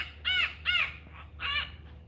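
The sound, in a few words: bird calling at a zoo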